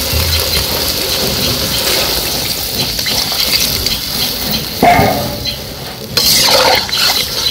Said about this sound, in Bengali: এখন জল দিয়ে দিই।